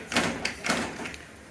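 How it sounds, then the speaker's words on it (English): A stuck latch on a Panasonic microwave oven door being tried, giving three or four short, close plastic clacks and rattles in quick succession. "Yeah, that door, it ain't opening."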